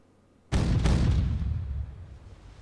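One heavy naval gun fires in the NavalArt game after a quiet moment, a sudden loud blast whose deep rumble swells and then slowly fades. No voices come over it.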